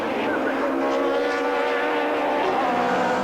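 Touring cars of the 1992 British Touring Car Championship at Silverstone brake hard and shift down through the gears into Becketts, a continuous dense engine roar heard at a distance under a commentator's voice.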